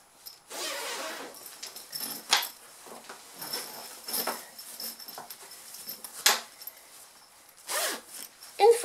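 A zipper is pulled open on a sewn fabric sewing-machine cover bag, with several rasping zip strokes and fabric rustling close by and no talk.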